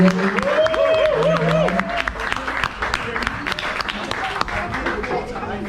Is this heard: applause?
yes